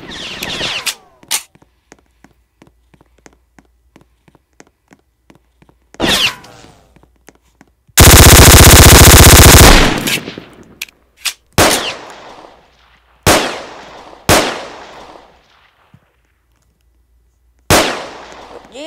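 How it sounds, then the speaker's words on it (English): Sharp, loud gunshots from a fast-firing gun in a street-roaming video game, coming as scattered single cracks and short bursts, with one sustained two-second roar of rapid fire in the middle. "It's pretty fast gun."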